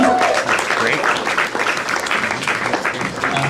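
A crowd at an open mic night in the Brew House Gallery applauds for the performer Royce, loud continuous clapping with some cheering mixed in, sustained across the whole clip.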